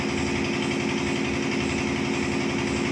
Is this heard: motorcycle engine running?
yes